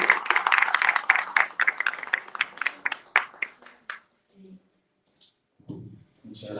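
An audience at a Spanish-language talk show claps for a departing guest doctor. The dense burst of clapping fills the first four seconds, then thins out and stops, leaving brief quiet and faint murmurs.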